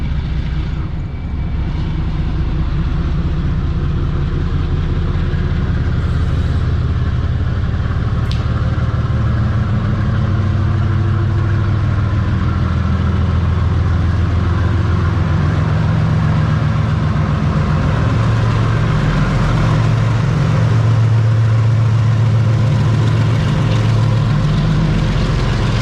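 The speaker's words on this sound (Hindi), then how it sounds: "तो ये मालगाड़ी जो है ये GU40 9013 के साथ आ रही है।" A freight train hauled by GU40 locomotive 9013 rumbles past in Pakistan, a loud, continuous low engine drone that stays steady and close for nearly half a minute.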